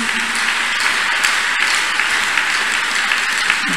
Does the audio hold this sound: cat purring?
no